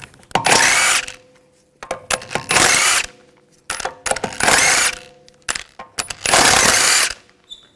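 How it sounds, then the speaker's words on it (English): Lug bolts come out of a Volkswagen Jetta wheel with a 17mm socket on a power tool. Four loud, close bursts of spinning arrive about a second apart, separated by small clinks and metallic rattles, with no talking. "Using a 17mm socket, take the lug bolts out."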